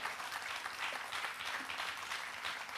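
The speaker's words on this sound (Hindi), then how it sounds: "अपने लिए तो तालियां बजा लो" An audience at a motivational talk gives sustained applause, a continuous wash of many hands clapping, fairly faint and even throughout, with no voices.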